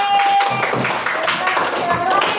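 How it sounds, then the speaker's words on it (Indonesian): A classroom of students claps for group D after their presentation on religious norms, a dense, steady patter of hands that runs through the whole short stretch, with a voice speaking over it. "beri tepuk tangan untuk kelompok D"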